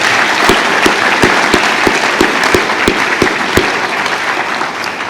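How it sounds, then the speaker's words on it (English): An audience at an economic development council annual meeting applauds, a dense, steady clatter of many hands clapping at close range for several seconds, with a few sharper individual claps standing out. "So another round of applause,"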